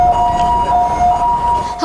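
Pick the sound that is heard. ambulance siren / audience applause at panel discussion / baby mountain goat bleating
ambulance siren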